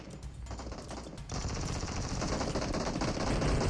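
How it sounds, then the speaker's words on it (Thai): Sustained rapid machine-gun fire from the PUBG Mobile shooter game rattles continuously, growing denser and louder after the first second, close and dominant with no talk. "เหมือนจะยิงกับเพื่อนนะ"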